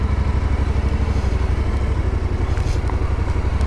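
A motorcycle rides along a road in Patagonia, its engine a steady, loud, close-up rumble with a constant low throb and no talking.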